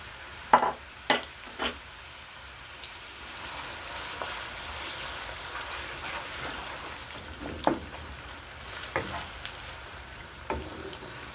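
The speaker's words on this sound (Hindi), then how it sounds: "प्याज ब्राउन होने तक हम इसे भूनेंगे।" Sliced onions fry in a pan with bay leaves, cinnamon, black cardamom and cloves for a chicken and chickpea curry, giving a low, steady sizzle punctuated by a few sharp spatula knocks, heard alone without speech.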